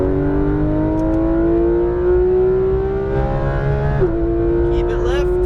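A Porsche 991 GT3 RS revs hard on a race track, its engine pitch climbing steadily in one long loud pull, briefly dipping near the end; a driving instructor's voice talks over the roar.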